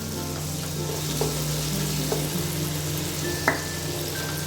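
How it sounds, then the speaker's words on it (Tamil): Prawns frying in masala in a pan make a steady close sizzle with a low hum underneath and a few faint stirring taps, without any talking. "ஏற்கனவே ப்ரான்ஸ் வந்து நல்லா ஃப்ரை ஆகிருக்கு"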